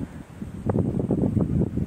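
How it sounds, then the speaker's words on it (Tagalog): Strong wind by a river in Sta. Ines, San Miguel, Bulacan, buffets the microphone with low, rumbling gusts that swell and fall over a couple of seconds. "pero yung hangin medyo malakas pa rin."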